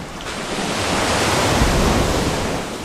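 Ocean waves surge into a sea cave entrance on the Portuguese coast, a continuous loud rush of surf and wind-blown spray that builds and holds steady throughout, with no voices.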